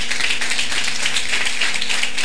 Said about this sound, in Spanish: Muy bien, dale un aplauso al Señor.